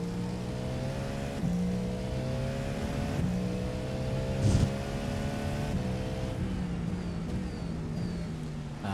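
GT3 race car engines roar in a racing video game set at Daytona, a sustained droning whine with shifting pitch as a car accelerates, nearby opponents passing under it, with no talk.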